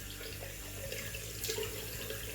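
Water runs steadily from a tap into a sink in a barbershop, a continuous even splashing flow, close and alone.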